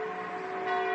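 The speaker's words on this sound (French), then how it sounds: "À toute volée, chaque dimanche matin, les cloches de l'église sonnent le ralliement des fidèles dans ce petit village de Haute-Marne" Church bells ring at full peal for Sunday morning mass in a small village in Haute-Marne, France, a sustained bright, resonant tone heard alone over one second.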